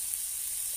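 Onion frying in a pan at an outdoor village noodle party, a steady close sizzling hiss with no pauses over a brief moment.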